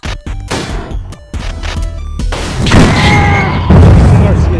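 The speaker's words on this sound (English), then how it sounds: "Why don't you try using this shotgun and see how does it do?" Loud shotgun blasts in a video game, several sharp booming bursts fired in quick succession over the first couple of seconds, then giving way to a dense, noisy wash of in-game action with ringing tones.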